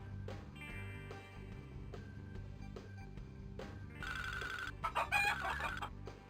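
Cartoon chickens cluck and crow from the trees in the 1999 point-and-click game Spy Fox 2, faint at first, then a brighter burst of squawking crows near the end over quiet game music.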